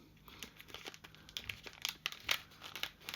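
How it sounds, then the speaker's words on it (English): Cellophane left over from a bunch of flowers being crinkled up close, a quiet run of sharp crackles and crisp rustles that grow denser toward the end. "This is cellophane"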